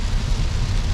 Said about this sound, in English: So, update, still raining.